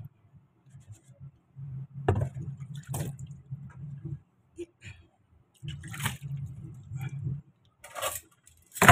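Water runs and splashes while foamy suds are rinsed off laundry in a kitchen sink, coming in two longer bursts of sloshing with brief drips and squishes between them, close by.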